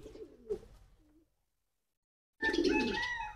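Pigeons in a backyard loft give low, throaty cooing calls, one short murmur early and a louder, fuller stretch of cooing after a silent gap, fairly close.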